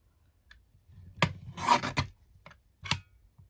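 Craft card being trimmed to a square for a mixed media card, giving a few short rasping cuts, with one longer scraping pass in the middle, close and fairly quiet with gaps between strokes.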